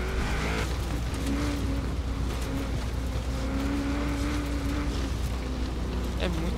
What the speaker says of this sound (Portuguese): eu tô andando na terra